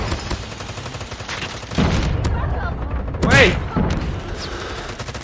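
Holger 26 light machine gun firing in Call of Duty Mobile, rapid sustained bursts with booming impacts, while a player talks and exclaims over the shooting.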